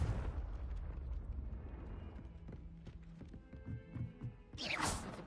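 A Confringo spell in Hogwarts Legacy lands as a series of muffled, rumbling blasts and knocks, fairly quiet overall, ending in a sharper bright burst near the close.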